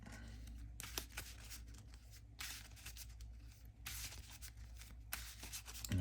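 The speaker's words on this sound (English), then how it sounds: "we are all shuffled up" Playing cards for a Marvel Champions tabletop game are shuffled in a few quiet bursts of riffling and sliding, close and soft, with no talk over them.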